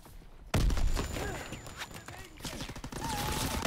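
Gunfire in the video game Call of Duty: WW2 beta, a loud burst starting abruptly followed by rapid overlapping shots and impacts, with a player's voice faintly mixed in.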